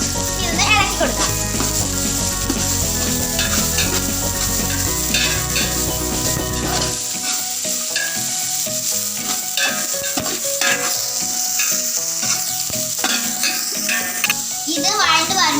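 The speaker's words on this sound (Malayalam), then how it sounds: "ഇനി സവോള ഇട്ട് കൊടുക്കാം. ഇതൊന്ന് ഇളക്കി കൊടുക്കാം." Sliced onions sizzling in hot oil in a pan while being stirred, a loud continuous fry with scraping stirs, and a voice talking over it.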